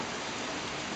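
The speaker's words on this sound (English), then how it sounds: "I'm gonna shut this now because it's really starting to rain." Steady rain falls outdoors as a dense, even hiss of drops on surfaces, close and constant for the whole moment with no other sounds.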